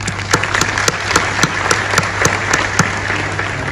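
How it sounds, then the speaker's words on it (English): Audience applause after speakers at a Pakistani public event, a dense, steady wash of many hands clapping, loud and sustained, with sharper individual claps standing out and a low mains hum underneath. "Please give them a resounding applause"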